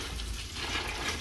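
Water runs steadily into a bucket of soaking alfalfa for a horse in a barn on a winter evening, a close, even rush with no voices over it.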